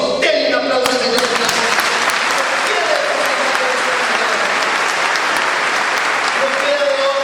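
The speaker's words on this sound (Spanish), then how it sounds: "Denle un aplauso al Señor." A church congregation gives the Lord a loud, sustained round of applause that fills the whole stretch with dense, steady clapping, with voices mixed in.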